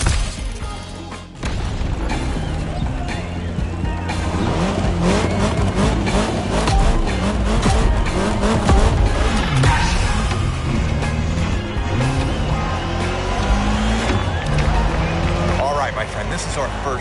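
Racing car in the video game The Crew, engine roaring and revving continuously at full loudness with screeching tires layered over a dense in-game soundtrack and effects.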